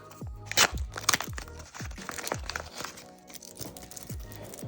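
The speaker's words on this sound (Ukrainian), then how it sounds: "Сьогодні ми відкриваємо ось такий пакетик." Paper crinkles and crunches close up in a run of irregular rustles and tearing bursts, with no voices.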